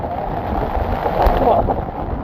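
Strong wind roars at Dhanushkodi beach in rainy, stormy weather, a dense continuous rush buffeting the microphone with no clear voices standing out.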